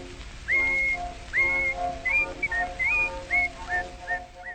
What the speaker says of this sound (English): he's happy when he whistles this tune